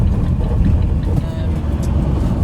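Car interior on the drive to a rendering job at an old property: a steady low road rumble and engine drone fills the cabin throughout, with a faint voice murmuring underneath.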